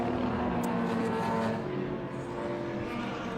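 Porsche 911 race cars, including a gold 911 Carrera 3-litre and a 2.7, roar around a track at a racing festival, a sustained engine drone from a moderate distance that eases slightly midway.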